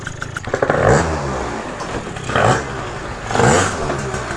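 A scooter fitted with a cheap big bore kit revs hard in three surging bursts, its engine climbing and falling loudly and close by with some clattering between pulls.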